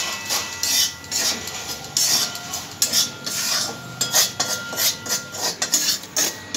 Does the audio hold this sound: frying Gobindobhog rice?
yes